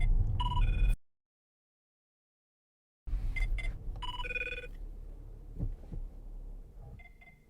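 A phone rings with an incoming call inside an Audi Q7 3.0 TDI S line Plus quattro during a test drive, sounding as short electronic ring bursts, then a pause of silence, then more ring bursts over low cabin rumble.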